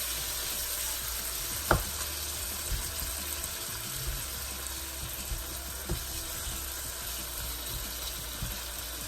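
Potatoes and water simmering in a pan with softened tomatoes for an egg and potato curry give a steady low sizzle and bubbling, with a few faint knocks and one sharp clink of utensils.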